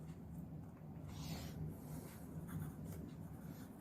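Someone writes the capacitance formula on a board during a Class 12 physics lesson on capacitors, making faint, scratchy strokes in short bursts against a quiet room, with no talking.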